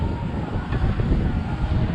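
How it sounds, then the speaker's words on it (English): Gusty wind buffets the microphone in a constant low roar at Blackpool Pleasure Beach under blue skies, with a faint rushing sound like distant surf behind it. "But it is windy. It's a little bit windy."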